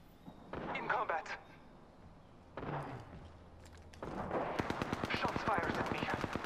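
Gunfire in Apex Legends: a short burst of shots, a brief second volley, then a longer rapid automatic stream of sharp cracks, loud and close.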